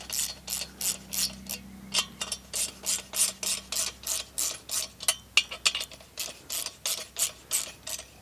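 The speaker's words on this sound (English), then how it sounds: "Tighten those down by hand, and then you can finish tightening them down with a ratchet or a wrench." A ratchet wrench tightening the bolts of an antenna mast-to-mast mount, a long run of rhythmic clicking strokes, steady and close, with no talk.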